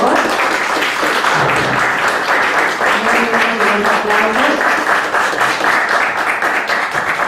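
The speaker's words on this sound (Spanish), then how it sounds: "demos un caluroso aplauso al maestro" A seminar audience on family harmony and student performance gives the teacher a warm round of applause, a dense, steady wash of many hands clapping for about seven seconds with a few voices faintly audible underneath.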